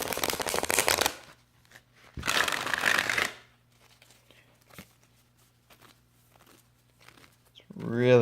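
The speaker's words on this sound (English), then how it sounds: "I like to rifle shuffle" A thick oracle deck being rifle shuffled by hand, two close, loud bursts of riffling cards, each about a second long, with faint handling taps and rustles in between, then a voice starting at the end.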